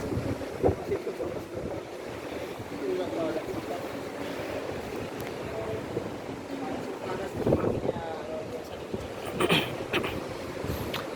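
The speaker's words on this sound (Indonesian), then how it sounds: "Anginnya kencang ya teman-teman ya." Strong wind gusts sweep across the Arjosari bus terminal, a steady broadband roar buffeting the microphone with occasional louder swells, while voices and faint background activity sit underneath.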